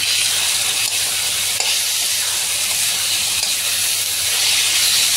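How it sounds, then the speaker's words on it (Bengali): Tomato cooking down in frying masala gives off a loud, steady, close sizzle, an unbroken bright hiss lasting several seconds with faint stirring beneath it. "এবার একটু টমেটম দেবো, মশলাটাকে আরও পাকাপোক্ত বানাবো"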